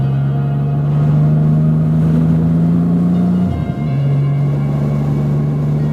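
Triumph Rocket 3 R Black Limited Edition motorcycle cruising on a wet, leaf-strewn road in the rain, a steady low engine drone with a brief dip in pitch partway through, like a gear change or throttle lift, then a steady drone again.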